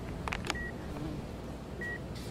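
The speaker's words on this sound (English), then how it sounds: "This beeping is like super annoying." Two short, thin electronic beeps sound a little over a second apart over a low background hum, with a few faint clicks near the start.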